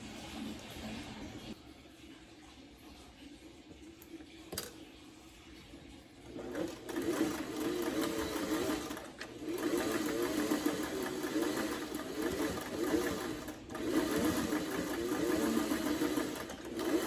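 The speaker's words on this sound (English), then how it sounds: "We'll take it back over to the sewing machine, sew that in place on both sides" A sewing machine stitching a fabric face mask runs with a rapid mechanical whir that picks up speed after a quieter start, continuing steadily in close, even bursts with brief pauses.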